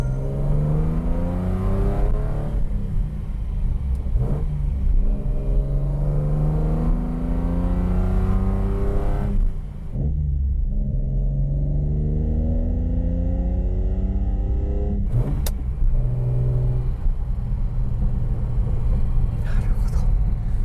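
A Nissan Fairlady Z GS30 sports car engine revs repeatedly past 4000 rpm, its pitch climbing and falling in long sweeps, loud and close, with a brief drop in revs midway.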